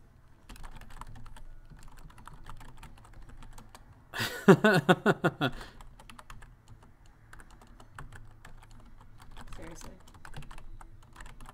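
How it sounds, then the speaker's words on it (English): Fingers typing on a computer keyboard at a desk with a keyboard tray, with a quick burst of loud rapid key clatter in the middle and lighter scattered keystrokes elsewhere, a voice talking around it. "This keyboard is different from everything I normally use"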